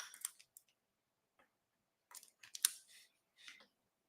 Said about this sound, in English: I'm just going to stick my snips in there and pull out the glue.